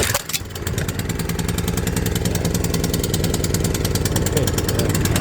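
An ATCO Balmoral 14SK lawn mower's engine runs loudly and steadily close by after a brief start, a continuous mid-pitched rattling drone with no letup.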